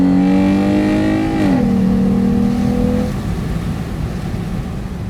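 A Jeep Grand Cherokee 3.6 with a K&N 77 intake revs loudly and close, the deep engine tone holding, then dipping and settling before falling away to a lower idle-like rumble.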